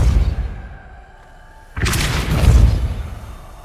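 Two spell blasts fire in the Hogwarts Legacy video game, Confringo and Repulsor, first a fading booming hit and then a sudden loud whooshing burst with a deep rumble.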